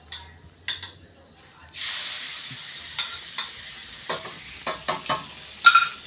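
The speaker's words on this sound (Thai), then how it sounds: "ทำหมูทอด" Pork frying in Amnat Charoen, Thailand, begins as a hissing sizzle partway through, with sharp utensil taps and clinks scattered over the steady, close frying sound.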